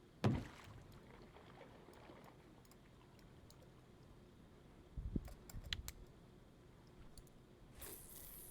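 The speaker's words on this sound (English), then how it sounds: "make a different sound for when it hits the motor than when it hits the corner of the metal boat" A couple of soft, hollow thunks against a metal boat hull in the Russian Fishing 4 video game, one at the very start and a small cluster midway, over quiet ambient water, with no talking.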